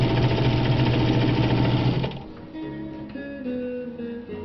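A vintage Atlas sewing machine stitches through fabric with a loud, steady, fast mechanical whir that runs for about two seconds, then slows and drops to a quieter, uneven hum.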